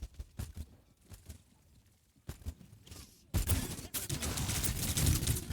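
Grenades explode during an Overwatch competitive match: scattered bursts and impacts at first, then a sustained loud barrage of blasts and rattling fire fills the second half.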